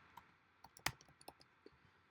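Light, irregular taps on a computer keyboard come as scattered keystrokes with one sharper key press, quiet and close.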